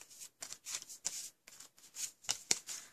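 Paper note cards and envelopes are sorted into a box, giving close, faint papery rustles and short flicks in irregular bursts.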